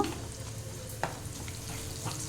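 Quiet, steady sizzle of asafoetida frying in hot tempering oil, with a faint scrape or tap now and then.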